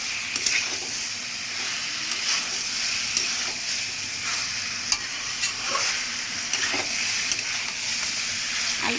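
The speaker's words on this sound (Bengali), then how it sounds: "আমি এবার আলু আর পুঁই শাকটা দিয়ে দেবো, দিয়ে ওর সাথেও মশলাটা আরও ভালো করে আমি 10 থেকে 15 মিনিট কষে" Meat cooking with potato and Malabar spinach in browned spices, sizzling in a pan while being stirred: a continuous close hiss with repeated spatula scrapes and clacks at an irregular rhythm, no voices.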